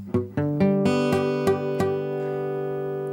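A six-string guitar chord played by a beginner, strummed across all six strings several times in a slowing rhythm, each strum ringing bright and close before a sustained final chord fades out alone.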